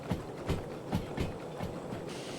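Faint, steady rhythmic clacking and chugging from a DE2 locomotive running in a train video game, repeating about twice a second.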